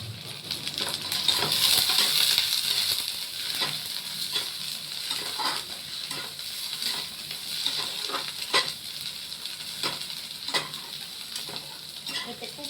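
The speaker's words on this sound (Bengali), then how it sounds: "এখানে আমার ইলিশ মাছের যে তেলটা, এটা আমি দিয়ে দিলাম।" Food frying in hilsa fish oil in a pan, a continuous close sizzle broken by repeated scraping stirs of a utensil at an uneven rhythm, alone without speech.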